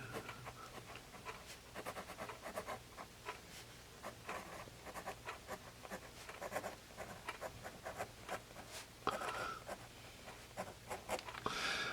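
Ballpoint pen from HEMA with four ink colours scratching across paper in steady strokes and short bursts, close and fairly quiet, with occasional louder taps and a low background hum.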